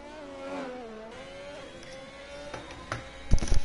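A Ferrari race car in a simulated Monaco Grand Prix, its engine droning steadily with a rising and falling pitch, joined by a few sharper bursts near the end and no talk over it.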